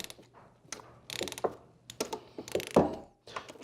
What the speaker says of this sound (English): You'll find the oil plug just below the actual dipstick, and you're going to want to move to ratcheting that off